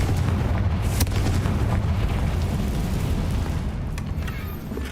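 Casting the Confringo fire spell in the video game Hogwarts Legacy sets off a loud, deep explosive boom with a sharp burst near the start, followed by sustained rumbling and crackling that fades slowly.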